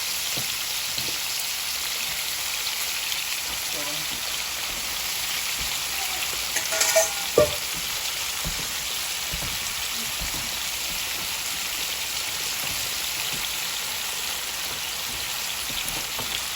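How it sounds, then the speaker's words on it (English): Constant soft sizzling of chicken frying in oil, steady and close, with a couple of brief clunks partway through. "I want some frying going with this."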